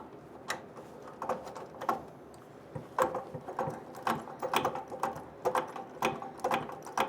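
Screwing a part onto a bandsaw produces quiet, irregular ratcheting clicks and short mechanical ticks, close and scattered in quick bursts with brief pauses.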